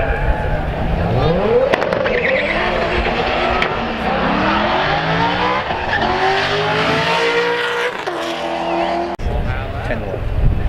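Race cars at full throttle in a Corvette match race, among them a winged 350, with engines roaring and revving loudly and steadily, tires squealing, and a voice talking over the noise throughout.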